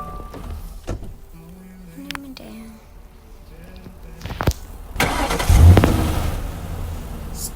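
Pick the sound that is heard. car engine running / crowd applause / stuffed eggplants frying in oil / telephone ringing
car engine running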